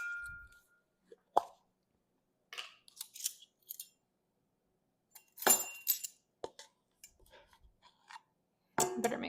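Metal measuring teaspoons clinking and clattering in a kitchen while baking cookies, a few sharp, close, scattered clicks and jingles separated by silence.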